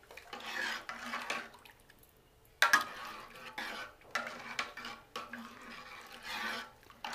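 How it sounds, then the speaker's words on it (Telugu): A spoon stirs buttermilk rasam (majjiga charu) in a metal pot, with repeated scraping, clinking swirls in uneven bursts and a sharp clank partway through, close by and fairly quiet. "బాగా కలిపి పెట్టండి."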